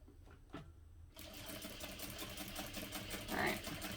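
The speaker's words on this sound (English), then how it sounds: "that actually sews very nicely with my regular foot" A sewing machine with a regular presser foot stitches vinyl, starting after brief low speech and running as a steady close whirring hum with rapid needle clatter, a voice faintly present early on.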